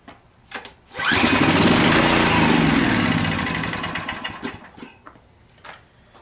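A small generator engine with low compression and a primed carburetor pulls to life and runs with a loud rattling putter, then winds down and sputters toward the end, heard up close.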